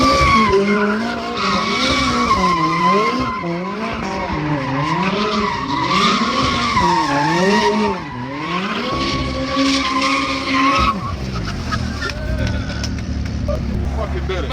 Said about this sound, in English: They came here with a McLaren because they wanted to do donuts.